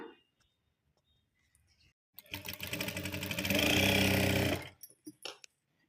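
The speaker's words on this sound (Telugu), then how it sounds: "చూడండి, నేను డబ్బా షేప్ను మాత్రం కుడుతున్నా." A sewing machine stitches fabric in a box shape for a rose flower, running in a loud steady mechanical whir for about two seconds and then stopping, with quiet handling sounds before and after.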